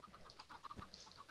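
Minecraft chickens clucking, a short run of faint rapid clucks in a quiet game scene, with no voices.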